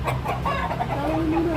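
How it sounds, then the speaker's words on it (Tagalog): Several chickens cluck nearby in short, busy calls that overlap, one rising into a longer drawn-out note, against low background noise. "Ang daming manok dito."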